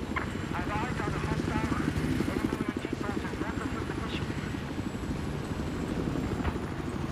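Helicopter in the video game Battlefield 4 over Shanghai, a steady rhythmic rotor chop thumping throughout at moderate distance, with players talking over it.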